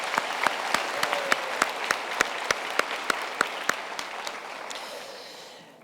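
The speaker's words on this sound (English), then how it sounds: "I think we should give all our graduates a hand of applause" Graduates receive applause at a university graduation ceremony: a dense crowd claps steadily for about six seconds, with one person's sharp, evenly spaced claps standing out on top before the sound fades.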